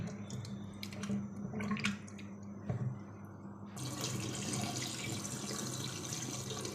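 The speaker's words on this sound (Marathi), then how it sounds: "डाळ एकदम व्यवस्थित स्वच्छ धुवून घ्या।" Urad dal being rinsed in clean water, with running tap water and sloshing, dripping splashes close by, the flow turning steadier and fuller toward the end.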